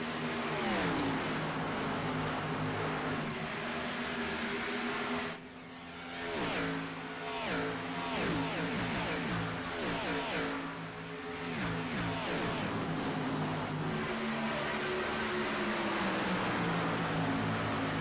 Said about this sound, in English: Such a big train of cars right now on the inside from 4th on back.